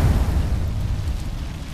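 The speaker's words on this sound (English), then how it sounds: "Throw my grenade out." A grenade blast in a first-person shooter video game, a loud low rumbling boom that fills the whole moment and slowly decays, heard alone with no voices.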